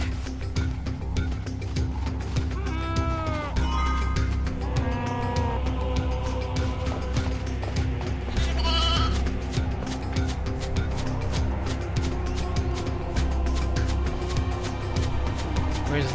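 Sheep on the Plains of Eternity in the Final Fantasy XIII-2 video game bleat in a few wavering calls over a steady, low game ambience, with no voices present.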